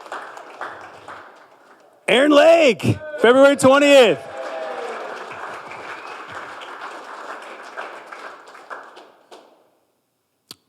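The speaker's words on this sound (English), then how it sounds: "Come on, clap for Arnold." Workplace team-meeting audience clapping for an absent colleague's birthday, a burst of group applause mixed with whoops and cheers that tails off into scattered claps, with talk before and over it.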